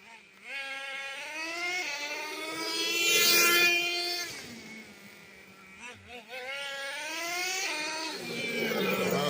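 A Traxxas Revo RC truck's nitro engine revs during tuning, a rising and falling buzzing whine with strong harmonics that climbs to a loud peak, drops back, then revs again, close by and continuous.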